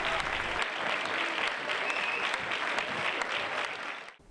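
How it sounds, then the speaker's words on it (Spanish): A concert audience gives a band a loud, sustained ovation of dense applause that holds steady for about four seconds and then cuts off abruptly. "el público le brindó a la banda esta sonora ovación al terminar la actuación"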